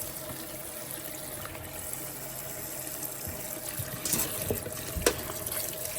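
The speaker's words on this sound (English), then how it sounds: "Put them in the sink and give them a good wash." Running tap water splashes into a sink as scotch bonnet peppers are washed, a faint steady stream with a few louder splashes and knocks near the end, no talk.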